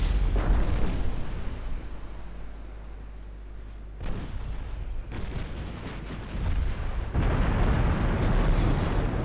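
Shell hits exploding on a warship's deck and torpedo launchers in the naval strategy game Ultimate Admiral Dreadnoughts, with heavy booming blasts and rumbling fire that swell and overlap continuously, loud and dense throughout.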